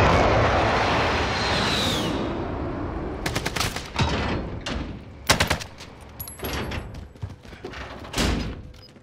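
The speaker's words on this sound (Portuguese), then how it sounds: "eu vi o cara dando tiro de cima do presídio" Gunfire in the online shooter game Warzone: loud bursts and single shots crack out over a steady background roar, with sharp reports clustering irregularly through the middle and end.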